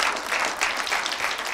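A studio audience at a televised kids' talent show applauds a young circus artist, giving a dense, continuous wash of clapping that swells and eases slightly over the short stretch, with no talk.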